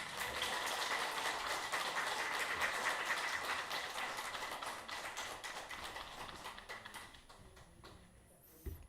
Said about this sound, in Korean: 인사할 때 박수 한번 부탁드리겠습니다.